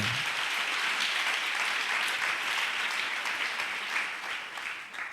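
A church congregation claps in a steady, dense wave that fades slightly toward the end, with faint voices mingled in the crowd.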